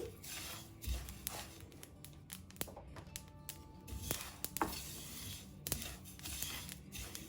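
Sesame seeds dry roasting in a pan for laddu, giving faint, scattered crackles and light ticking pops in irregular bursts.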